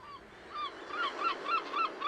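Gulls giving loud honking calls during a territorial charge display, a slow series of about five rhythmic nasal calls, moderately near, with no voices.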